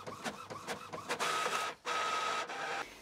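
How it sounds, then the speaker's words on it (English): An inkjet-style printer prints an image for a Cricut craft project, with a series of mechanical whirs and carriage passes, a steady tonal whine during two long passes, and brief pauses between them; close and fairly loud, no talk. "And now we're going to print."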